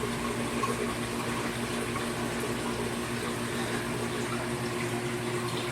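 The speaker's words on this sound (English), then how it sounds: "all those do is dump back down, straight down through the shelving, and come back down into the sump" Water draining from aquarium tanks down through shelving plumbing into a fish-room sump, a steady continuous rushing and trickling wash with a low hum underneath, unbroken throughout.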